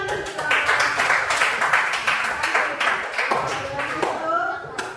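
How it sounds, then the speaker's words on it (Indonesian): Group applause at a class presentation session, a quick burst of clapping that keeps going for several seconds, close and fairly loud, then starts to fade near the end. "Oke, tepuk tangan dulu."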